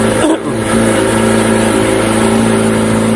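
A Kawasaki ZX-25R motorcycle with a Prospeed Viper aftermarket exhaust and dB killer fitted idles loudly and steadily close by with a deep, even burble, alone with no talking.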